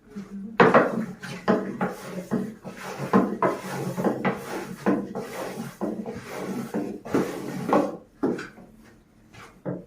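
Spinach börek filling being mixed in a bowl, with repeated clattering scrapes and knocks of utensil against dish in an uneven, busy rhythm, fairly close and fading near the end.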